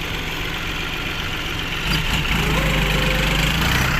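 A tractor engine chugs steadily nearby while stuck in deep mud in a field, then its rumble deepens and grows slightly louder as it works harder.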